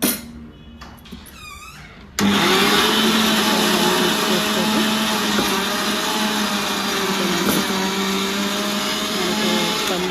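A kitchen mixer grinder whirs loudly and steadily as it grinds roasted peanuts into palli podi, starting abruptly after a short stretch of softer sound and then running continuously.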